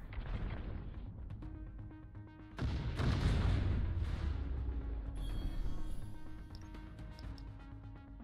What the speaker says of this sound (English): Light barrage, here we go.